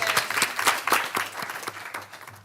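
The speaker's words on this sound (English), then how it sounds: "Round of applause" Brief round of applause from a small group at a village board of trustees meeting, scattered claps fading over a couple of seconds, with a voice faintly in the background.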